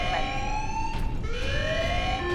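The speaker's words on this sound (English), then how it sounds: "Alarm. Structural damage. Warning." Rising and falling alarm siren wails steadily in the Space Marine video game, loud and continuous, with a brief burst of noise partway through.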